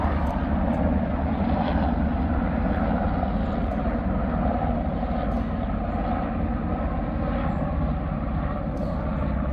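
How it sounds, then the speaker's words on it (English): Steady low mechanical drone of a helicopter overhead, continuous and fairly loud throughout, with no talking. "let's give it a second and see if the helicopter is above"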